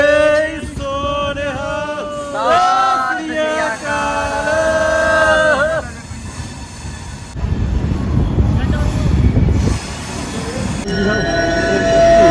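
A train passes nearby with drawn-out squealing, horn-like tones, then a heavy rolling rumble. Voices carry on underneath.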